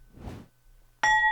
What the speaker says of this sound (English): It's the famous Doug Adams bell sound indicating we are going to tell you who our comment of the week is